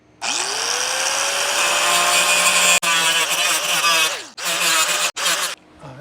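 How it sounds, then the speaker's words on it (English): A power tool spins up and cuts a small metal lip off a bracket while installing a mini split in a food truck, a loud whining grind that runs steadily, then stops and restarts in short bursts. "Trim that off so it lays flat."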